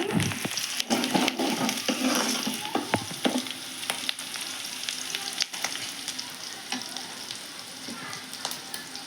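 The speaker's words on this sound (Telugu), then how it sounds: "నేను కరివేపాకు వేస్తున్నానండి." Curry leaves spit and crackle as they hit hot oil for an egg fry, a dense, bright sizzle with sharp pops and stirring knocks early on, settling into a steadier frying hiss.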